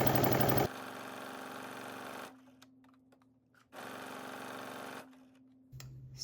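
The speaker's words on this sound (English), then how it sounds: "You're going to stitch all the way around." A sewing machine hums steadily while stitching around the front bodice waistband of a sweatsuit, in two sustained runs separated by a short pause, close and moderately loud.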